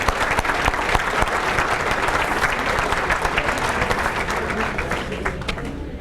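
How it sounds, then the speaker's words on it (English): Audience at a Catholic high school sports hall of fame dinner gives a long, steady round of applause, many hands clapping evenly throughout and tapering slightly at the end. "So let's hear a round of applause."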